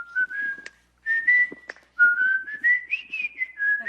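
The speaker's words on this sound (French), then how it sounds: "Non, c'est que du sifflotis." One person whistles a wavering, sliding melody in short phrases separated by brief pauses. The whistling is close and clear, with no talking over it.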